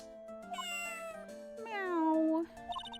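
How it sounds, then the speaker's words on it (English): A cartoonish cat meow from the Phoenix Wright Ace Attorney video game, a few bright tonal mews over a steady musical background, clear and close. "Ah, what a lovely cat!"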